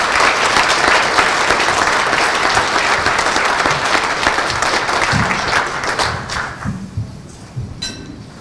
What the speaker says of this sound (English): tonight, we owe her a huge round of applause for the work she does.